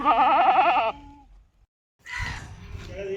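A Kathiawari goat lets out a loud, wavering bleat close by, then a short silence before rougher animal noise and rustling follow.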